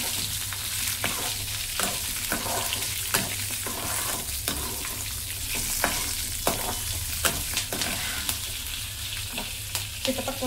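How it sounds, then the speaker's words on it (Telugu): Dried red and green chillies fry and splutter in hot oil, making a dense continuous sizzle with frequent sharp pops and crackles close by, and no one talking. "చిట్టపక్కల ఆడుతున్నాయి బాగా."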